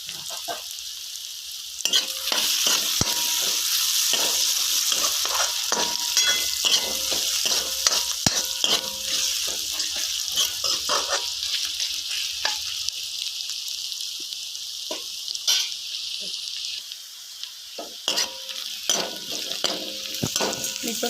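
Onions frying with salt in a pan for rajma rice, giving a loud, steady sizzle throughout with frequent scraping stirs of a spatula against the pan.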